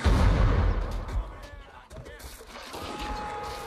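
Cannon fire in the Napoleonic-era game Mount & Blade: Napoleon Wars: a heavy, loud boom at the start with a rumbling tail, followed by scattered battle noise and faint voices in the background.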